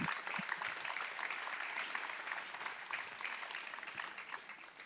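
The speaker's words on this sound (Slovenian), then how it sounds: "Lahko aplavz." Steady applause from the crowd at a municipal holiday celebration in Radovljica, continuous clapping for about five seconds, fairly distant and soft.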